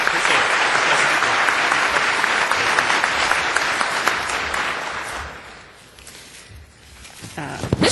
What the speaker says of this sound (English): just a round of applause for Chris